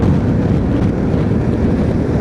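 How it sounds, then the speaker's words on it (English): A loud rush of wind roars against the microphone while riding a Suzuki DL800 motorcycle for a couple of seconds, a dense, steady buffeting with no speech. "That was a wee gust there."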